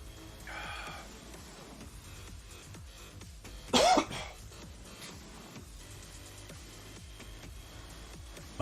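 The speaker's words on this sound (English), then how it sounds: "Just a couple of coughs tonight is all." A single sharp, brief cough rings out close up partway through, following a faint throat-clearing sound, against a quiet background with low rustling; the coughing person is recovering from congestion.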